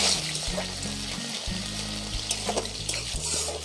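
Chopped onions frying in hot oil with bay leaf, dried chilli and five-spice seeds for a Bengali sea fish curry, giving a steady loud sizzle with occasional stirring scrapes and no talk.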